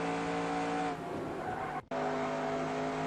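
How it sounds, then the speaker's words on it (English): Race car engine screaming at full throttle on the Dover International Speedway oval in the NASCAR Racing 2002 Season video game, a loud steady high-revving drone that briefly cuts out near the end before roaring back. "As soon as you're confident that you'll make it, go to full throttle and let the car drift out to the wall."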